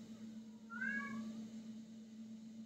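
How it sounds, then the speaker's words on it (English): A single short cat meow, faint and somewhat distant, rises briefly over a low steady hum. "Do you hear the cat?"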